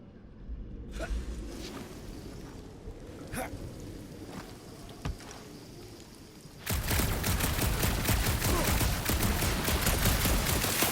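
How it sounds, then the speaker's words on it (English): Sustained, dense gunfire in the Guardians of the Galaxy video game on a forest road, erupting suddenly after a quieter stretch of rustling ambience and scattered clicks, then rattling loudly and continuously to the end. "Shooting your way out of every problem again, Peter?"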